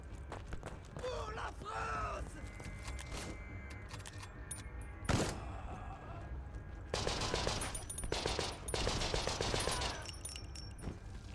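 A machine gun nest firing in the war game CONSCRIPT, rattling bursts of automatic fire with pauses, mixed with other battle noises while a person talks over it.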